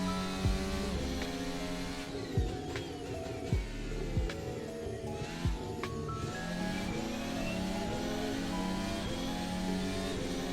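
An F1 car in Assetto Corsa pulls away from a rolling start, its engine revving in rising sweeps punctuated by repeated gear-change drops, loud and continuous among other engine noise.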